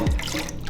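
Water runs briefly from a tap while a rice cooker pot is washed, a short close splashing hiss with a low gurgle at the start.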